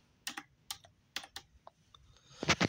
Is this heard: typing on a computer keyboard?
yes